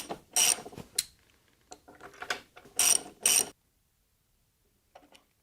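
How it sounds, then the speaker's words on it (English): A socket ratchet tightens a bracket bolt on NR-400 Route 1 Road Trip motorcycle saddlebags, giving several quick bursts of close, crisp clicking that stop short and are followed by near silence with a faint click or two. "We're going to grab our next socket and tighten up this bolt."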